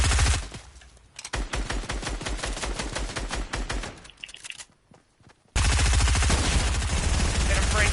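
Fortnite gunfire, rapid automatic bursts in quick rhythmic strings, loud and close, broken by a short pause before another heavy burst resumes.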